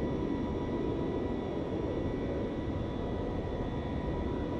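Boeing 707 jet engines idling and taxiing in Flight Simulator X, a steady, loud, even roar with a low rumble and faint high whine, unbroken throughout with no speech.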